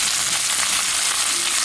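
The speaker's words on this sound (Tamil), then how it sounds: "இப்போ 2வது வெள்ளை உளுத்தம் பருப்பு, கடலைப்பருப்பு இதை போட்டு தாளிக்கணும்." Urad dal and chana dal crackling as they are tempered in hot oil, a steady, loud, dense sizzle that fills the whole moment with no voices over it.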